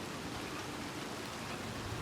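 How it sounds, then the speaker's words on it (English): Steady, even rain hiss in the Red Dead Redemption 2 game world, a dense soft patter with no other sounds, quiet and unbroken throughout. "Whenever this rain decides to stop being such a Debbie Downer."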